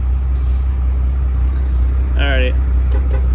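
A 1992 Cummins diesel truck with compound turbos including an 88 mm turbo idles with a loud, steady low rumble, while a person speaks briefly over it.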